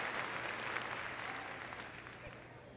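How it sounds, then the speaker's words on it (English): A large audience claps for a rescue dog's agility run at Crufts 2014, a steady broad wash of applause that slowly fades, with a voice speaking over it. "If everyone could give her a big round of applause,"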